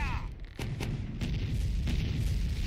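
A ship's cannon broadside in the naval video game Sea Dogs, heard as several booming shots fired in quick succession with a steady low rumble underneath, close and loud.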